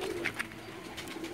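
Soft, low cooing of pigeons close by on a rooftop in Jeddah, Saudi Arabia, with a couple of brief higher calls over a faint background murmur.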